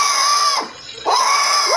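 Screaming in a blocky game roleplay, a loud, high sustained shriek that cuts out briefly and then resumes, without any talk.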